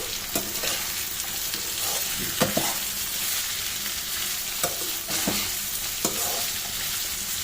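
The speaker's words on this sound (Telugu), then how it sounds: "ఇప్పుడు తీసి ఒకసారి కలుపుదాము" Brinjal fry being stirred in a pan just uncovered after simmering, a steady close sizzle running throughout with occasional scrapes and taps of the spoon against the pan.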